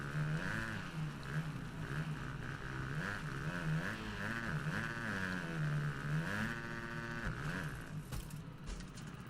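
A motocross bike engine in the video game MXGP 2020 on PS5 revving up and down in repeated surges, the pitch rising and falling steadily, continuous and fairly quiet, with no speech.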